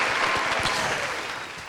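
Applause fills a room at moderate volume, a brief continuous patter of clapping that fades slightly toward the end.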